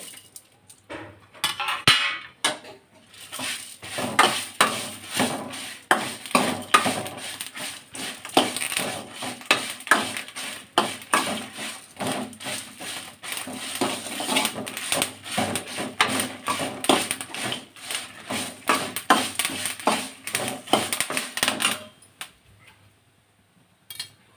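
Mustard seeds, fenugreek seeds and curry leaves fry together in a pan, giving a continuous busy crackle of sizzling and popping with frequent sharp ticks, steady and close for about twenty seconds before stopping abruptly.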